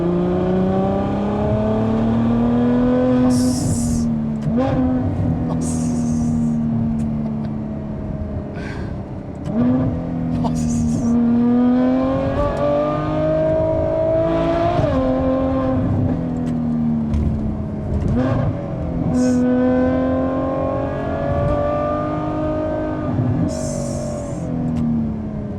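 Ferrari F12 Berlinetta V12 engine driven at night, loud and close throughout, rising and falling through steady revs with clear gear-change dips every few seconds and no talking.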